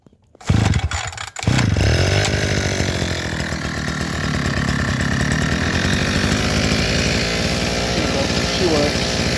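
A multi-blade brush cutter's small two-stroke engine catches after a pull and settles into a loud, steady buzzing run close by, with someone speaking over it.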